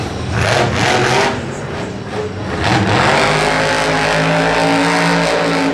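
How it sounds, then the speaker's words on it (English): Max D monster truck engine roaring and revving at a Monster Jam stadium event in St Louis, loud and sustained with surging bursts over a dense arena crowd din. "And launches the truck."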